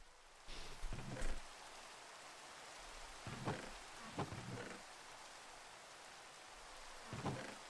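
Steady rain falls on a surface in a blocky game world, a continuous soft hiss broken by a few brief louder bursts and low rumbles, with no talking.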